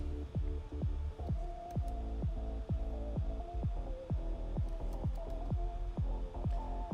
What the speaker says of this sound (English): this track has a sub bass in it already. I can hear it, I can feel it